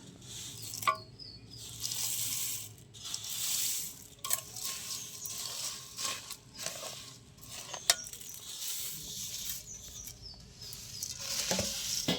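Puffed rice being stirred into jaggery syrup in a pan for khoi murki, with steady dry scraping and rustling strokes and a few light clicks, close and moderately loud, no talking.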